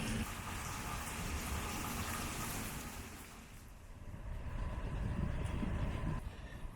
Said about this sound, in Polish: dzisiaj mam taki deszczowy dzień, który spędzam pod wiatą